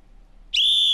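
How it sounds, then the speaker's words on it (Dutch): A single sharp whistle blown into a microphone as a test, starting abruptly after near silence and holding a steady, loud, bright tone until the end. "Misschien één keer even fluiten, dat we je horen."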